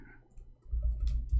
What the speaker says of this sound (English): I was typing in Arabic.